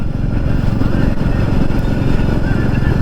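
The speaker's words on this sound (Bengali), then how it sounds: "এখন বাইক চালাচ্ছি হাইওয়েতে" A motorcycle cruises along a highway with a steady, loud engine drone and rushing wind noise filling the whole stretch, close to the rider without a break.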